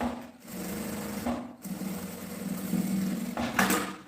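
A sewing machine stitches a printed fabric bias strip face to face in a steady, close whirring run, with brief pauses and a faint change in pace.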